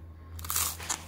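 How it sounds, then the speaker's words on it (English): Crisp crunches as someone bites into a raw bay bolete mushroom: a short burst of two or three close, dry, crackling bites over a low steady hum, with no talking. "You can listen to the crunch."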